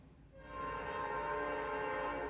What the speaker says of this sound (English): The train is here again.